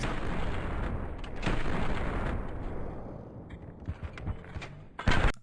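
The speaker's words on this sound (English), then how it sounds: "you shot this shot as you were moving" Gunfire in CS:GO on the Vertigo map sounds as several sharp shots over a dense, noisy background, with a louder cluster of reports near the end.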